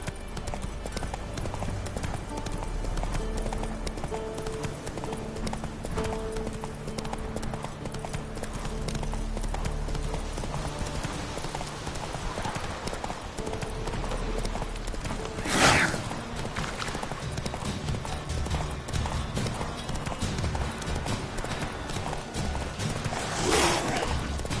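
Roach the horse galloping in The Witcher 3, a steady rhythmic clip-clop of hooves over continuous game ambience, with a couple of brief whooshes near the end.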